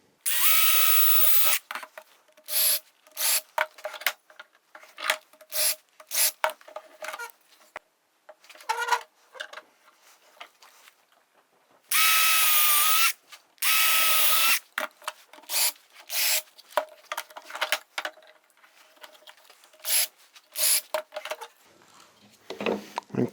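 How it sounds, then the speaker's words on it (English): A power drill bores through a knot in wood in repeated bursts, loud and close. Each burst whines steadily for a second or two, with two longer runs, and handling clatter and brief pauses fall between them. "we've got a little knot here, but just drill through it like it's not there"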